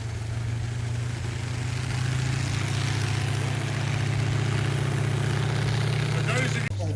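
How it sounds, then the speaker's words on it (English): A tank powered by a Continental radial aircraft engine, heard idling with a steady low rumble and popping exhaust, close and continuous at an outdoor tank show, with a voice talking over it. "this has got a radial engine, a continental radial. You can hear it popping away there."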